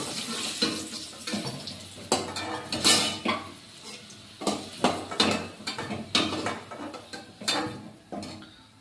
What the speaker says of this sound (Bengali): আলুটা ভাজা কমপ্লিট, তো আলুটা তুলে নিচ্ছি।